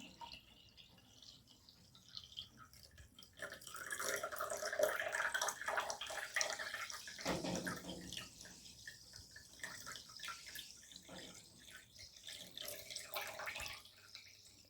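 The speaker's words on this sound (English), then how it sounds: "and then pour water in it. I'm personally choosing sparkling water." Sparkling water poured into a glass, a steady fizzing splash that runs for several seconds at close range and then tapers into faint bubbling.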